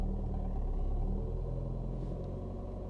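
A manual-transmission car engine holds a steady low rumble while pulling away on a hill, with no clear rev rise, loud and continuous throughout.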